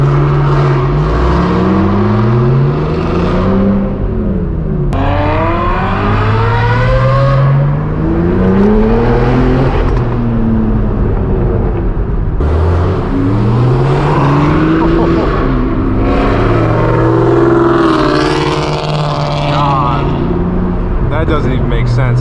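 A loud Mustang engine roars and revs up and down repeatedly, rising and falling in pitch, close by at a car meet, with people talking over it.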